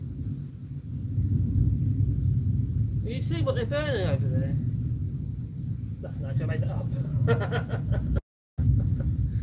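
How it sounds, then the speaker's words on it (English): A low, steady rumble runs under the whole stretch, like distant thunder, while someone talks over it. "Hear the thunder? God, it's just like constant, isn't it? It's like this distant rumble."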